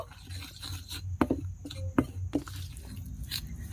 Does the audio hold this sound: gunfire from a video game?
no